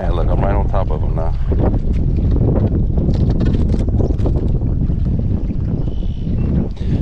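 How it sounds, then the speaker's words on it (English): Wind gusts buffet a fishing boat on a marsh while out fishing for redfish and trout, heard as loud, constant rumbling microphone wind roar, with a voice heard briefly early on. "That wind is kicking our butt again."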